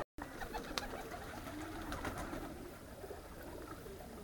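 Young domestic racing pigeons coo softly at a Polish loft after a 100 km competition flight, a low, continuous murmur of cooing with faint outdoor background and no talk.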